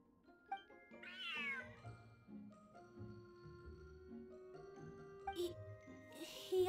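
A cat in the Genshin Impact video game gives a clear rising meow, then another call later, with jingling tinkles and soft game music underneath.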